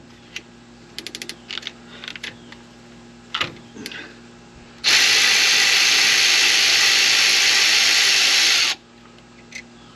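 Pneumatic or power tool zipping out the bottom bolt of a brake caliper on an old truck, one loud continuous burst of several seconds, preceded and followed by scattered clicks and workshop clatter.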